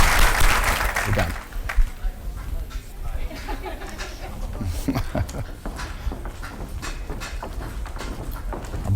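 A lecture audience at a Portuguese-language health talk applauds, dense clapping strongest in the first seconds, then thinning into scattered claps mixed with murmured voices and shuffling.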